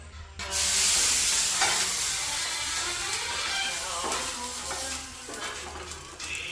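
Davangere benne dosa fries on a hot pan at home, giving a steady loud sizzle and hiss with soft scraping and stirring noises now and then. No voices are heard.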